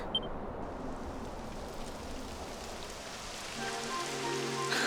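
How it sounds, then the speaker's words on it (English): Rain falls in the video game Dragon Quest XI, a steady soft hiss of drops on the ground that grows slightly denser near the end as faint tonal game sounds come in. "It would have to go and start raining, wouldn't it?"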